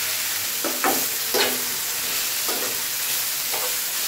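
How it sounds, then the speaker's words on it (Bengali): Red amaranth greens going into a pan of frying garlic and chili, a steady sizzle broken by several short scraping strokes of a spatula. "রসুন মরিচ ভাজা হয়ে গেছে, এখন শাক দিয়ে দেব"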